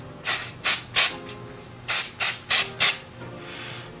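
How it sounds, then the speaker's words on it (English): Living Proof dry shampoo is sprayed around hair in a series of about seven short hissing bursts, irregular and close, each a sharp aerosol hiss, with a softer hiss trailing at the end. "I'm just going to spray it around my head just to see what it smells like."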